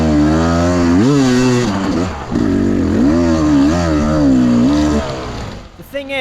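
Dirt motorcycle engine revving loudly and up close while climbing a very steep hill at a hill-climb race, its pitch rising and falling through the clip before fading out at the end.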